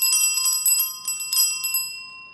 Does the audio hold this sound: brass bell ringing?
yes